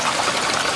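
A mountain forest stream flows with a steady, close rushing and trickling of water, continuous and alone.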